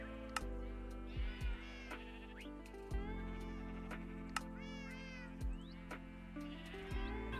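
A cat meows repeatedly to be fed, several drawn-out calls spread across the span over a steady low hum and the intermittent ticks and bursts of a Minecraft game on a family server.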